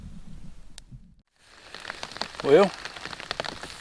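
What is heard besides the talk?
rain starting to fall at a campsite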